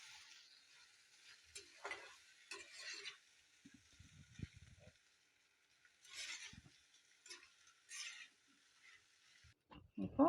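Pasta in tomato sauce is mixed in a pan, with soft intermittent scrapes and stirring clatter separated by near silence and a louder knock at the end.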